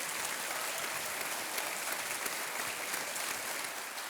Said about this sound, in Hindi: एक बार तालियां बज जाएं इनके लिए।